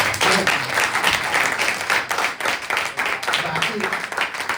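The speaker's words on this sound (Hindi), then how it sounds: "क्या एक ताली होना चाहिए।" Audience clapping after a song at an informal Hindi-speaking gathering, a lively irregular patter that rises and dips, with voices talking over it.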